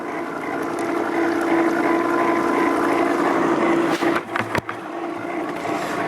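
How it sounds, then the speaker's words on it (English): A GW25 machine running on its own, holding a steady droning hum with a fixed tone, broken near the end by a few brief clunks and a quick dip in level. "let the machine run just for a minute by itself"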